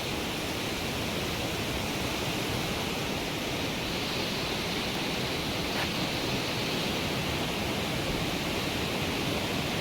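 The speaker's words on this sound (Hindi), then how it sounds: "तो वो पानी ऊपर से नीचे गिरता है।" Rainwater falls from trees along the Char Dham route as a steady, dense rushing hiss that stays even and unbroken throughout, with no voices.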